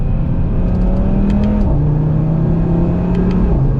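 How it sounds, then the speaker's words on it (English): A 2021 Audi TT RS exhaust hums steadily at close range while cruising, its drone shifting down once, with a few sharp faint crackles of exhaust pops scattered over the engine note. "hear some pops in that exhaust."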